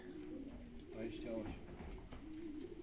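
A racing pigeon lands at its loft during a young-bird race, with soft cooing and wing sounds over a steady low background hum.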